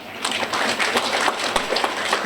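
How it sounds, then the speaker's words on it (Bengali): An audience at a school event in a hall claps for the mothers, a dense, continuous patter of many hands that stays steady throughout. "সবাই সবার মায়েদের জন্য একটু জোরে করতালি দাও"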